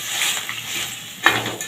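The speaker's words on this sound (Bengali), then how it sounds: "আমি ঢাকাটা খুলে দেখে নিচ্ছি" A cooking pot lid lifted off a simmering pot of raw banana, potato and papaya curry, giving one short metallic clink over a soft steady background hiss.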